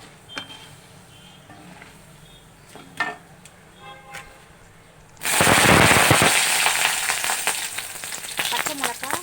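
Mustard seeds, urad dal and chana dal crackling in hot oil for a lemon rice tempering, a dense loud burst of popping and sizzling that erupts halfway through after quieter clinks and a few faint pops.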